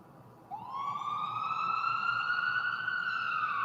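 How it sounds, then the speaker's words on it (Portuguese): A siren wails in from silence, rising and then holding a steady, sustained tone at fairly close range with a faint low rumble beneath it; no voices. "O som das sirenes podiam ser ouvidos de longe"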